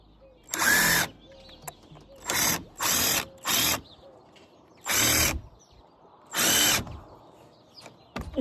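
A power drill runs in six short bursts as it drives a screw during a van build, each whir lasting about half a second with brief pauses between, close and loud against a quiet background.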